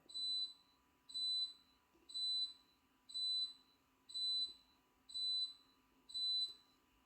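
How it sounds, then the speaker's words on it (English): A dishwasher's high electronic beep, signalling the end of its cycle, repeats seven times at a steady pace of about one per second, clear but not loud, in an otherwise quiet kitchen. "that beeping was the dishwasher in my kitchen finishing whilst I'm narrating"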